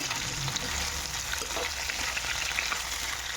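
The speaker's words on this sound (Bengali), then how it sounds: "চিংড়ি মাছটা ভেজে নিচ্ছি" Steady sizzling of shrimp frying in hot oil, a continuous crackling hiss at moderate volume with no talking.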